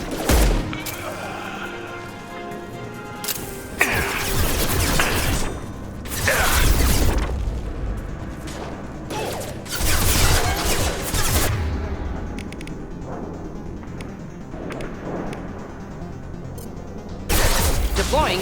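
Gunfire in Mass Effect 2 erupts in repeated loud bursts and volleys across a noisy battle, with booms and mechanical clatter, and game voices and talk mixed in between the shots.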